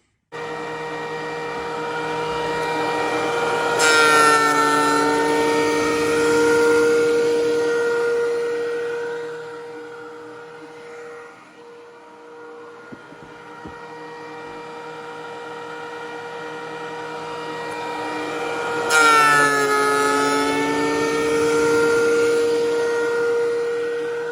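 A loud machine whines with a high tonal drone that rises twice as the board feeds through, easing down to a quieter hum between passes.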